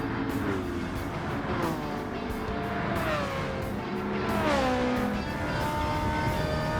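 Ferrari F40 tuned for roughly 200 mph racing against GT3 cars in Gran Turismo 7, engine notes rising and falling through gear shifts with other cars droning close by, a continuous loud racing roar.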